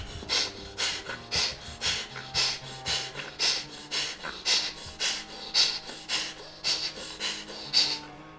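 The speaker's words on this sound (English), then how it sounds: "you start to do bellows breathing, strongly changing the nostrils" Rhythmic forceful nasal exhalations of bellows-style Kapalabhati breathing, roughly a dozen sharp snorting puffs at a steady pace, close and clear with nothing else heard.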